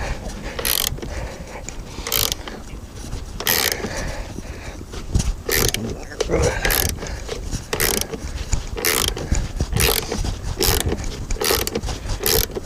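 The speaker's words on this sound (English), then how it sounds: "I'm going to take out the same 2 bolts. 18mm." A ratchet wrench loosens 18mm bolts holding the rear seat of a 2013–2017 RAM truck, with rapid clicking bursts repeating at a steady pace, close up and loud, with faint mechanical knocks between them.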